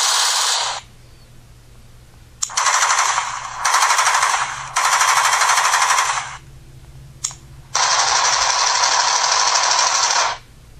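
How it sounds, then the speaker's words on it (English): H&K gun sound effects play from an Android phone app as long bursts of rapid automatic fire, four sustained loud volleys separated by quiet gaps, with no talking. "And all it gives you is the sounds of the guns."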